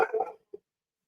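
A pet dog named Bird lets out one short, close bark, followed a moment later by a brief single yip, then silence.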